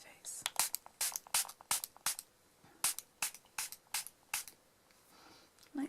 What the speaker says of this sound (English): I just close my eyes and I spray it over my face